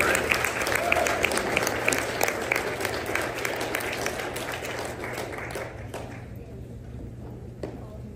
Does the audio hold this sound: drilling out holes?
no